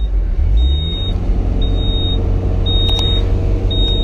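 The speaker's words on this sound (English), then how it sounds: "It won't shift into third. It's beeping at me" Repeated electronic warning beeps from a Ferrari with a faulty F1 gearbox and failing clutch as it refuses to shift into third, four evenly spaced tones over a loud steady engine rumble.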